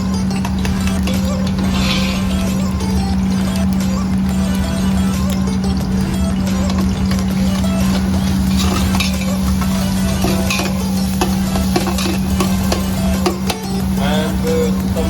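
Chopped onion and celery sauté in olive oil while being stirred, giving a loud, continuous sizzle with scraping and clinking of a utensil against the pan and a constant low hum underneath.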